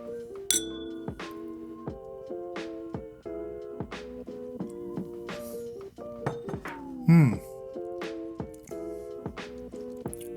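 Glasses of single barrel bourbon clink together in a toast at a tasting, one brief bright clink near the start, with voices and other low sounds around it.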